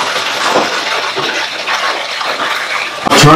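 Water pours continuously into a small fish tank during a water change, a steady gushing splash with a sharper, louder surge of flow right at the end.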